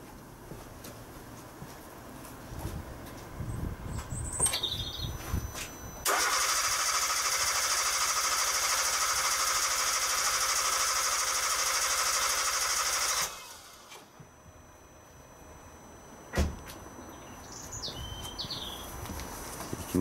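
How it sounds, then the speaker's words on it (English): A vehicle engine is cranked over for a compression test with a WPS500 pressure transducer. After a short stretch of background noise, a loud, steady, buzzing whir of the starter turning the engine runs for about seven seconds, then it cuts off abruptly to quiet. "So now all we've got to do is crank the vehicle."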